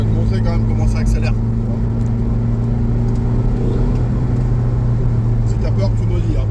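Car accelerating from inside the cabin, a steady loud engine drone and road rumble that holds throughout, with faint voices under it.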